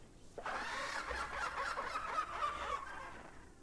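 One drawn-out, shrill squawking call from a Rhamphorhynchus pterosaur in the video game Path of Titans, seagull-like and wavering, lasting a few seconds before trailing off.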